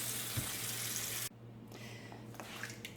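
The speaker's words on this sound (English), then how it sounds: "I'll fill up my sink here and put tomatoes in there to wash them" Water from a faucet rushes steadily into a kitchen sink being filled to wash tomatoes, a loud close gush that cuts off abruptly after about a second, leaving faint dripping and handling sounds.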